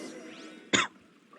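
One sharp cough, loud and close, cuts through a quiet background with faint game sounds, followed by a soft throat-clearing rasp.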